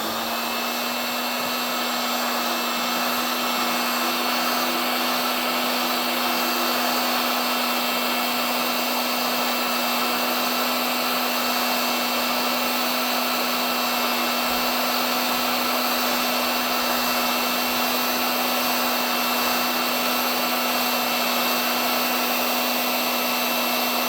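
A heat gun warms an irrigation pipe fitting during a sprinkler system installation, giving a steady, loud, unbroken blowing whir that holds for the whole span with no voices.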